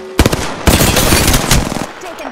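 Rapid automatic gunfire in the Apex Legends video game, loud and close, bursts of shots with a brief gap between them, then continuing fire that tapers off.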